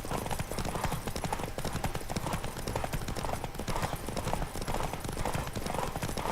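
Rapid, continuous clip-clop of a horse galloping hard in The Witcher 3, hooves pounding in a fast steady rhythm, close and loud, with no voices.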